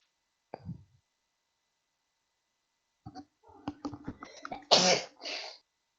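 A sneeze bursts out near the end, sharp and breathy after a few quiet rustles and small throat sounds, in an otherwise silent room.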